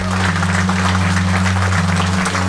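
Audience applause at an awards ceremony honouring top retail service staff in Estonia, a dense steady clapping that fills the room without pause, with a low steady hum underneath.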